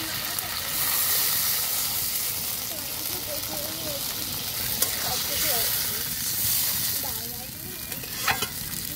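Water going into a hot pan of braised rohu fish masala sets off a loud, sustained sizzle and hiss, with bubbling and stirring crackles running throughout and a faint voice in the background.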